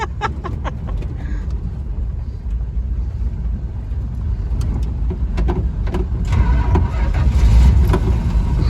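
An old 1966 classic car's engine labours up a hill as it runs out of gas, a steady low rumble that grows slightly louder toward the end, with faint clicks and knocks over it.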